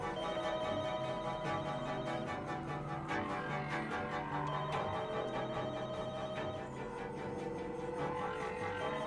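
A telephone rings in The Walking Dead: Michonne video game, with repeated electronic ringing tones carried over a dense, continuous soundtrack bed at moderate level throughout.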